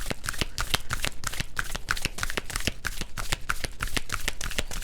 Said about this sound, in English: And I'm going to pull cards this time.